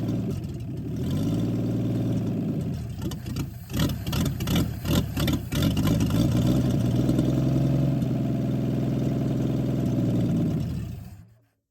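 A Ford 223 inline-six from a 1959 Ford F100 idles loudly and steadily up close, with a rougher, uneven stretch partway through, before the engine shuts off and the sound dies away.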